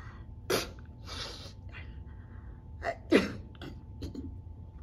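A couple of sharp, breathy bursts like sneezes, close and fairly soft, with quieter rustling and breathing between them.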